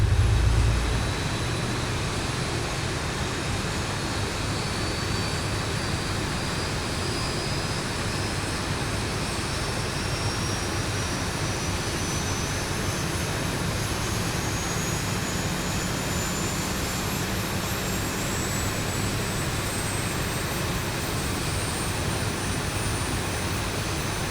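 Boeing 737 jet engine starting up in the X-Plane 11 flight simulator, heard from outside as a steady roar with a thin whine climbing slowly in pitch over about twenty seconds.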